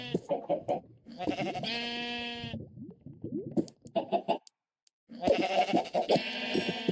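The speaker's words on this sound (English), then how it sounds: "I gotta breed these sheep because I took all the sheep" Sheep in the game Minecraft bleat repeatedly, close and loud, with several overlapping bleats broken by short pauses.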